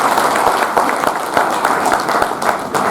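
An audience at a book release ceremony marking a centenary applauds continuously, a dense wash of hand claps with some crowd murmur mixed in.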